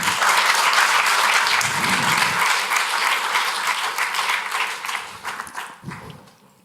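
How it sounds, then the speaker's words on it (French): An audience at an award ceremony breaks into loud, dense applause that carries on strongly for several seconds, then thins out and fades away toward the end. "On l'applaudit aussi."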